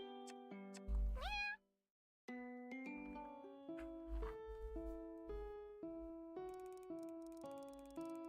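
A cat meows in the dating game Purrfect Date, one clear rising meow up front, then a short silence and a run of game music notes, all fairly quiet.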